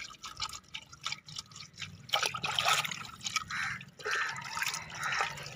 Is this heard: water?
yes